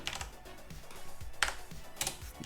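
Computer keyboard keys tapped in a few irregular clicks and clacks close by, with quiet low thumps between them and no voices.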